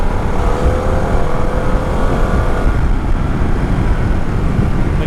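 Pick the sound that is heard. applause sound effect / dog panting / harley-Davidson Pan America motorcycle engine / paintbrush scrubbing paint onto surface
harley-Davidson Pan America motorcycle engine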